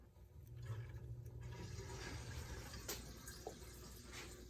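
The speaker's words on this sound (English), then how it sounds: "So now I'm going to power on the pump." A home heating system's circulation pump switches on and pushes water through the pipes, making a steady, fairly quiet rushing and gurgling flow.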